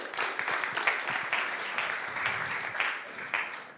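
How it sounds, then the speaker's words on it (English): Audience applause for a speaker at a kickoff event, steady dense clapping throughout with no break. "So please do give the applause to Hele."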